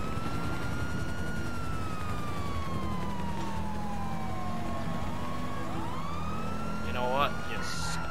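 Police sirens in Grand Theft Auto V wail and sweep up and down in pitch, overlapping over a steady engine drone, with a brief chirping burst near the end.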